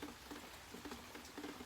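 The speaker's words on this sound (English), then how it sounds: "So it's raining again." Steady rain falling outdoors, a soft continuous patter of drops on surfaces, faint and even throughout with no voices.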